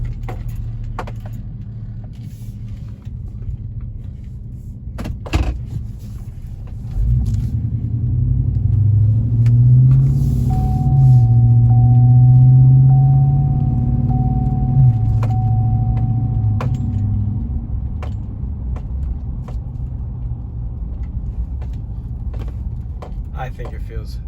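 A car fitted with Summit Racing polyurethane engine mounts idles with a low rumble, then its engine swells into a heavier drone for several seconds before settling back. There are scattered clicks and a faint whine, and someone talks at times.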